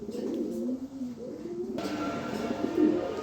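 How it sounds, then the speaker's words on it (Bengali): A big female pigeon coos nearby in a low, throaty, rolling series of calls, with a faint background hum coming in partway through. "এই মাদি কবুতরটা বিগ সাইজের একটা মাদি"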